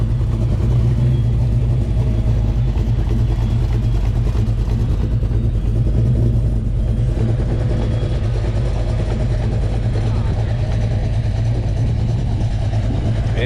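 A supercharged 383 V8 in a Tahoe at a car show idles with a deep, loud rumble, blipping the throttle in short revs against steady background noise.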